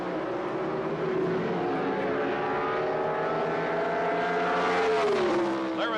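Pro Stock drag racing cars at the 1978 NHRA Gatornationals idle loudly with a steady, rumbling engine drone near the starting line, the pitch rising and swelling toward the end as they stage.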